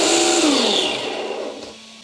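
Brushed electric motor of a Team Associated DR10 RC drag car revving up, a loud close whine that falls in pitch and fades over two seconds as it spins down.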